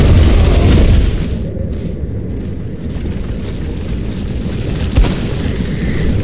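A loud boom opens in the video game Resident Evil 4, then a rumbling blast lingers and fades, with a sharp pop near the end.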